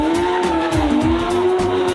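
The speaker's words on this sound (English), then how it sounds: "They're out here doing spinner wheelies and racing in our neighborhood park." Cars doing spinner wheelies and racing in a neighborhood park give a loud, sustained engine roar with a steady high tire squeal and revving pulses, heard close and continuous with no talking.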